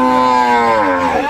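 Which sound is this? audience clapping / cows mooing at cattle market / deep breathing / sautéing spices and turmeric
cows mooing at cattle market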